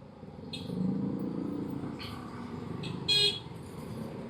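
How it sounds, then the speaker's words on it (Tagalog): Several short car horn toots sound over ongoing road traffic, the last one louder and closer than the earlier ones. "Busina ng busina eh."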